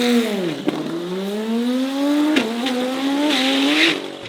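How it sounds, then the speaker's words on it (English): A built big-turbo RB-engine drag race car in Thailand screams at full throttle, pitch rising steadily through the gears with brief dips at shifts, loud and close. "the sound of a built big turbo RB"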